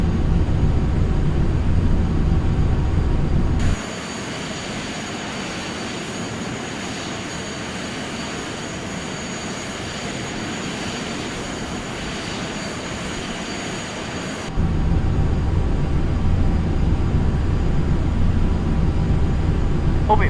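A Learjet's engines in a flight simulator hum and roar steadily, the low rumble cutting out to a thinner whine for the middle stretch before the fuller engine drone returns.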